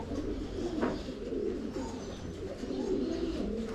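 Low, soft pigeon coos murmur steadily through a continuous bird-filled ambience among birds kept by a pigeon breeder, near and moderately loud with no talk.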